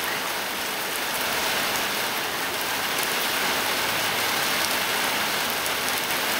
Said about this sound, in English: it's like a monsoon out here